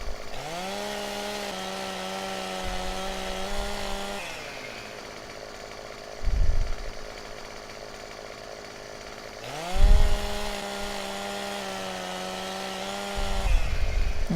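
A chainsaw in Farming Simulator 17 revs up to a loud, steady whine while cutting a log. The engine drops back to idle between two long cuts, and thumps are heard as the pieces fall.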